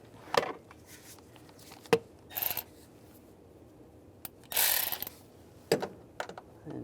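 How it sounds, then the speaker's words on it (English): Quiet mechanical clicking as a ratchet tightens an ignition coil bolt on a 3.6L V6 RAM 1500: a few separate bursts of short sharp clicks and brief metallic runs, spaced with pauses, close up in a quiet room. "And tighten the bolt."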